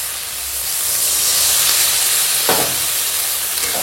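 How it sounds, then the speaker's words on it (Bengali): Loud steady hiss and sizzle as water hits soybean chunks frying in spices in a hot pan, a broad steam roar filling the whole stretch with a brief stirring scrape midway. "আর এখন দিয়ে দেবো জল।"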